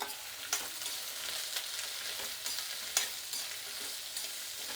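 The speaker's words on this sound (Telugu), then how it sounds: "చట్నీకి అన్నీ వేయించుకునేదానికి కొద్దిగా నూనె, ఎర్రగడ్డలు, అలాగే తెల్లగడ్డలు అన్నీ వేసేసానండి" Onions, garlic and tamarind fry in a little oil for chutney, a steady crackling sizzle with occasional scrapes and clicks of stirring in the pan, close up with no voices.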